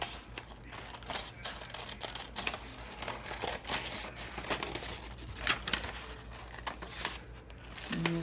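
Scissors cut a hand-drawn paper circle out of a sheet for a gourd pattern, giving close, irregular snips mixed with papery crinkling and rustling throughout.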